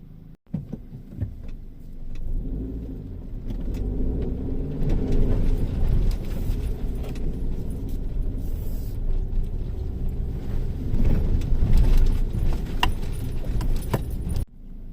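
A car grinding through a one-kilometre muddy off-road stretch in the Himalayas, its engine a steady, loud low rumble that runs throughout, with jangling rattles and bumps from the cabin on top.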